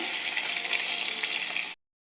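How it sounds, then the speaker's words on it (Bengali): Fish frying in a pan gives a steady, dense sizzle that runs close and loud, with no voices, then cuts off abruptly to silence. "তো ভেজে নিচ্ছি"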